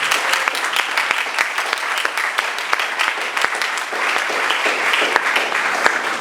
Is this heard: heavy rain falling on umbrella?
no